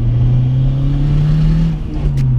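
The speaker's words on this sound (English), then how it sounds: "It announces itself very well when it comes on boost, because it doesn't half make a bloody racket" A 370 bhp turbocharged Honda Civic EP3 hot hatch with a screamer pipe drones loudly at steady high revs, then the tone dips and rises again, a close, raw engine racket with no talking.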